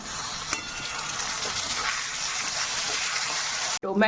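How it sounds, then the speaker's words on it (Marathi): Onion and tomato sauté in a hot pan for street-style egg bhurji, a dense, steady sizzle with a few faint stirring knocks, close and unbroken until a short burst of speech at the very end. "टोमॅटो परतायला थोडासा वेळ लागतो"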